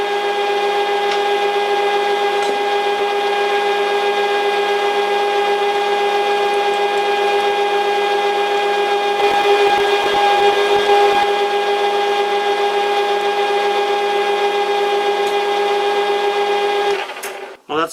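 A Banggood cobalt drill bit cuts metal on a machine, giving a loud, steady, high whining drone that holds for many seconds before winding down abruptly at the end.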